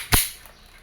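A WE Glock 17 Force Series airsoft pistol fires a single sharp, close crack through a chronograph, followed by a brief fading tail.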